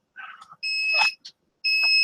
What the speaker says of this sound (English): Another beep.